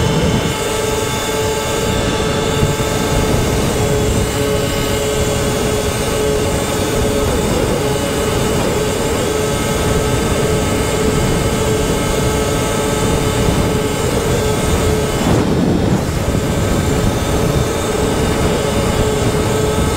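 A SurRon Light Bee 60-volt electric bike climbs a hill at full throttle near 40 mph, giving a continuous high motor whine layered with rushing wind that dips briefly near the end.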